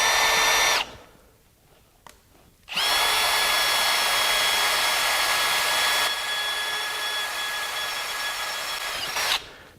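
A drill bores a pilot hole through quarter-inch steel plate, a loud sustained high whine that starts, stops for a moment, then runs steadily for several seconds before winding down, with no talk.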